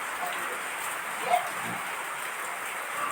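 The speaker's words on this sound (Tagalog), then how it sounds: "grabe naman lakas ng ulan. So, pangalawang araw na to. Pangatlo. Ayan, tuloy-tuloy yung yung pagulan." Heavy continuous rain pours steadily on a farm where piglets are kept, a dense even hiss with one brief knock partway through and no talking.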